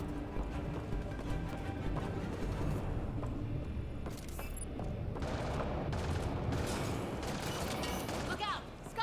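Sustained weapon fire in Mass Effect Andromeda, a steady rattle of shots with occasional sharper bangs and mechanical clicks layered over the combat, moderately loud throughout.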